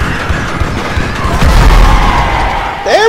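A van blows up in Grand Theft Auto V, a loud, sustained booming explosion with crashing debris rumbling on for a couple of seconds over constant game background noise.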